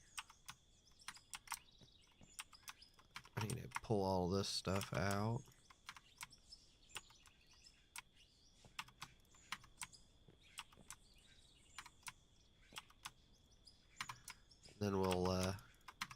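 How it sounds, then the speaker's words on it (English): Clicky computer keyboard typed during a mining-themed game session: rapid, scattered close-up key clicks run through the whole stretch, while someone talks briefly at two points. "keyboard is clicky."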